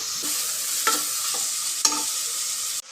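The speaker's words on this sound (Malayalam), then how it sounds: "ഉപ്പ് ചേർത്ത് കൊടുക്കാം. നന്നായിട്ട് വഴറ്റിയെടുക്കാം." Vegetables are sautéed with salt in a pan for a Kerala-style stew, giving a continuous close sizzle with a few sharp utensil clicks from stirring.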